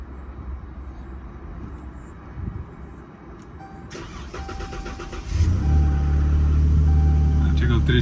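A Dodge Charger SXT with a 3.6 engine, at a car auction, sits quietly before its engine cranks and catches midway. It settles into a steady, close, low idle rumble, with voices nearby.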